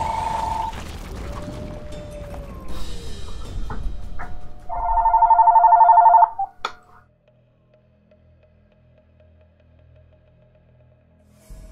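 A telephone rings in a loud, close, steady burst lasting over a second, with game sounds and mechanical clicks before it and near silence after.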